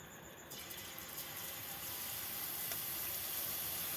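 Boondi batter drips into hot oil in a pan on a low gas flame and fries with a steady, dense sizzling hiss that grows slightly louder and continues without a break, close by.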